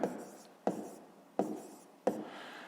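Pen writing on paper in a notebook, four evenly spaced short scratching strokes, close and soft, each starting sharply and trailing off, with no speech.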